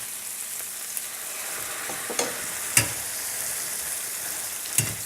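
Homemade refried beans fry in a hot pan as bean juice is added, giving a steady broadband sizzle with a few sharp clicks of a utensil against the pan, close and alone.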